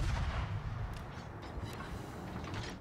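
Naval guns fire in World of Warships during a clan battle on the map North, heavy booming artillery rumbles rolling in the distance, faint and low, with several muffled blasts over a continuous sea-battle background.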